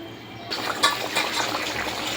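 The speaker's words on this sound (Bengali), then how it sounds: "জল দিয়ে দিলাম" Water splashes and trickles into a cooking pot for a fish and potato curry, starting abruptly and pouring steadily at close range.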